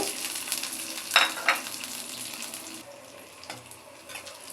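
Nuts frying in ghee for semolina halwa, a soft continuous sizzle with a few louder spoon-stirring scrapes early on, then quieter crackling toward the end, close by and without speech.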